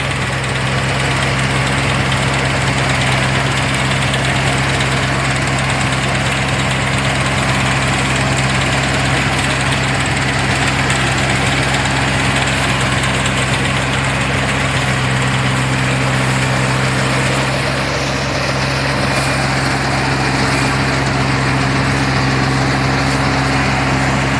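A Yanmar CA215 combine harvester's engine idles steadily and loudly close by, a continuous low rumble with a faint mechanical hum and no talking over it.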